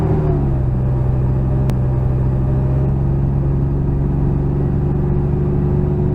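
Road traffic heard from inside a moving vehicle while driving uphill, a loud steady low engine and road rumble throughout with no talk.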